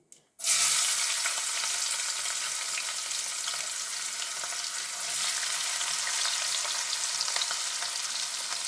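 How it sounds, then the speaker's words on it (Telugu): Chopped onions for a chana dal curry hit hot oil in a pan with a sudden loud sizzle, then keep frying in a steady, dense, close crackle with no talking. "ఇప్పుడు మన మెయిన్ ఇంగ్రీడియంట్ వచ్చేసి ఆనియన్ వేసుకోవాలి"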